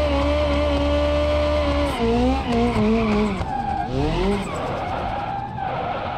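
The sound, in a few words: car drifting with tire squeal in BeamNG.drive video game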